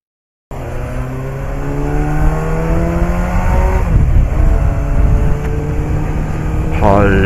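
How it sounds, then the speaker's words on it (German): A motorcycle engine misfiring on only three cylinders drones loudly and continuously while riding, with slowly climbing pitch lines and a brief rev rise near the end. "Moped läuft nur auf 3 Zylindern."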